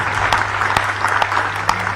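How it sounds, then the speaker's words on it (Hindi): Audience applause at a hospital MOU signing ceremony between Sri Sathya Sai Heart Hospital Rajkot and Ahmedabad, a steady burst of clapping from a crowd with a few sharper individual claps standing out. "तालियां हो जोरदार आपकी तरफ से।"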